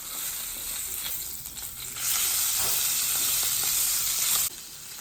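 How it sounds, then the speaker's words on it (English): A steak seared in a hot pan sizzles loudly and steadily. The hiss jumps to a fuller, brighter roar partway through after the steak is turned over, then drops back at the end. No one speaks. "Now it's time to turn over our steak."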